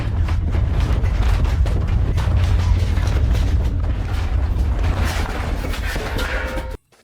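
Enormous low rumble from a nuclear test explosion in Operation Plumbob footage, a loud sustained roar with crackling debris that holds steady for about seven seconds before cutting off abruptly.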